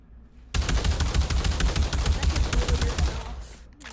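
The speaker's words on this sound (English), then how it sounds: "My bad, I shot you with a shotgun." A shotgun fires in a loud, rapid string of shots for about three seconds, then stops abruptly.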